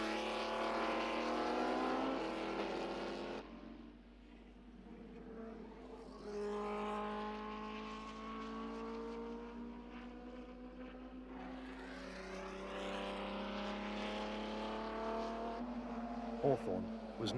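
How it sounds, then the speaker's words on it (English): Racing cars at the 1955 British Grand Prix, an Aston Martin DB3S among them, lapping a tight circuit: loud engine notes swell and fade in repeated passes, the pitch rising and falling as cars sweep by. "Next time around, Salvadori led, the Aston DB3S obviously suited to this tight circuit"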